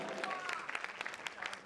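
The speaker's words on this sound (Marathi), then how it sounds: "तर जोरदार टाळ्या दोघांसाठी सुद्धा" An audience at a college annual day claps for two people on stage, a dense, fairly quiet patter of many hands with scattered sharper claps throughout.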